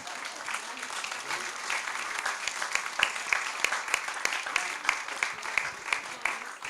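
Sustained audience applause for a speaker at a bookshop book event, dense crowd clapping with some sharper individual claps standing out, steady and moderately loud.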